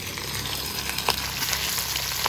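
Magur catfish pieces frying in hot oil, a steady close sizzle with a few brief crackles and pops, no talking.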